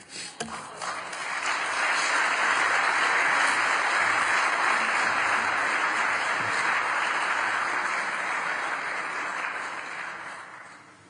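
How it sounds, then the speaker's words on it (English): An audience at a Slovak university applauds after a speech by the NATO chief, a dense steady wash of clapping that swells quickly, holds for several seconds and slowly fades. "But first an applause for my speech."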